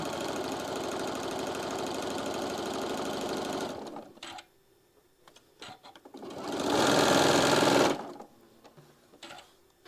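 A sewing machine stitches quilt pieces in two loud, rapid runs, the first lasting several seconds and the second shorter, with a quiet gap of small handling noises between them.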